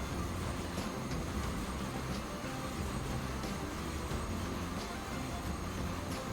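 A train runs in the video game Transport Fever 2, a steady, moderately loud rolling rumble with a rhythmic clatter of wheels on track that stays constant for several seconds.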